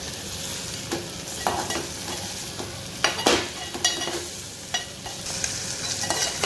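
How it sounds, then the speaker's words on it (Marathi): A pot of wild kantola (spiny gourd) vegetable curry, Agri style, bubbling at a boil while a spoon stirs it, with steady simmering hiss and several distinct scraping, clattering stirs, near and fairly loud with no talking. "तर मस्त असा घाटा मारून घेऊया।"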